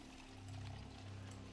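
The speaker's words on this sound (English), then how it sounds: "Fill the bottle." Water pours into a bottle in a video game: a soft, steady, low stream that swells in the middle and runs unbroken for under two seconds, quiet and alone.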